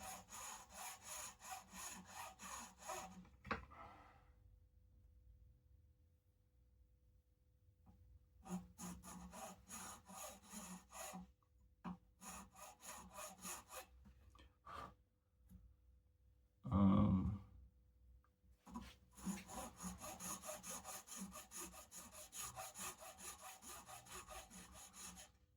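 Filing the nut slots of an Ibanez RGRT421 electric guitar: repeated rasping, scraping strokes in close bursts, with pauses between passes and one brief louder knock partway through, no talking.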